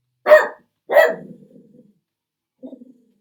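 Two sharp dog barks close together, followed by a brief trailing growl and a softer short yelp a moment later.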